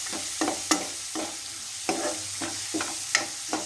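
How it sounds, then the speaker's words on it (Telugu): Boiled egg curry with tomato, onion and green chillies being stirred in a pan with a ladle: repeated scraping strokes against the pan at an uneven rhythm over a soft background sizzle, close and without speech. "మళ్ళీ గరిటెతో ఒకసారి మొత్తం కలిసే విధంగా ఇలా"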